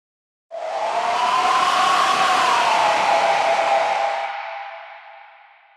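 A synthesized scream built in Pure Data and MaxMSP, a sustained wavering tone drenched in cathedral convolution reverb, rising and holding for about four seconds before a long reverberant tail fades out; no talking.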